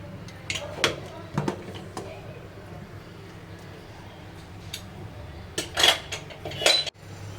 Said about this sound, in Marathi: आता आपण कुकर उघडून घेऊया.